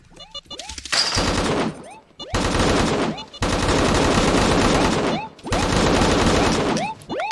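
Sustained bursts of rapid machine gun fire in a swamp-themed video game deathmatch, three long loud volleys separated by brief gaps, with faint talk between bursts.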